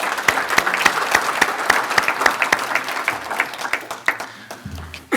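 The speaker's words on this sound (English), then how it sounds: "So give yourself a round of applause." An audience at a high school hall of fame ceremony gives a round of applause, a dense, sustained clapping that holds steady for about five seconds, then thins out.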